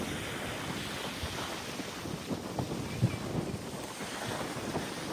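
Strong wind buffets the microphone at Alamillo beach in Mazarrón, Spain, over a steady wash of breaking surf and rolling waves, with occasional louder gusts and no voices.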